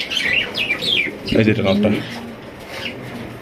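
Rare, uncommon pigeons, including an active male and high-quality racers, coo in low, throaty bursts near the middle, close by and partly under someone speaking over them.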